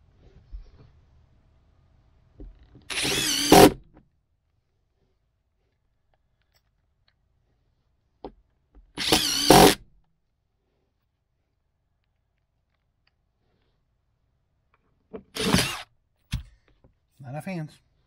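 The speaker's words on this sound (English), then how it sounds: "We'll finish driving these screws in." Power drill whirring in three short bursts as it drives screws to secure an RV sofa to the floor, each burst a second or so long with quiet gaps between.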